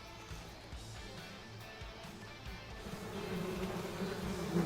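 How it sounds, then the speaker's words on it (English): Bees buzzing in the video game Metal Gear Solid Delta: Snake Eater, a low, droning hum that holds steady and swells slightly louder toward the end, with no talk over it. "Watch out for the bees."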